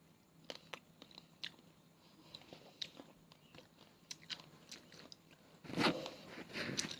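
A crunchy Vietnamese rice paper snack is bitten and chewed close to the mic, with crisp cracks and crunches in irregular bursts. A louder cluster of crunching comes near the end, and no one speaks over it.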